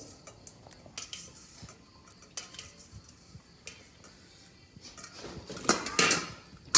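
Raw shrimp tipped into a pot, with light clattering of utensils and cookware and a brief burst of louder scraping and sizzle near the end, with no talk.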